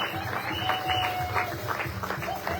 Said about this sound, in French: Si tu as la joie, applaudis pour la gloire de Dieu.